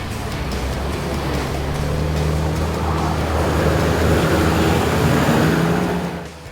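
A four-wheel-drive vehicle pushes straight across Canal Creek on a Cape York track, its engine rumbling steadily beneath a continuous loud wash and churn of water that builds and then eases as it exits.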